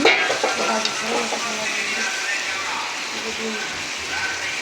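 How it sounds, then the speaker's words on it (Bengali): Fried potatoes, bananas and egg are stirred together in a frying pan, with a steady oily sizzle and scraping of a utensil filling the background. "নাড়াচাড়া করে সবগুলোকে মিশিয়ে দিব"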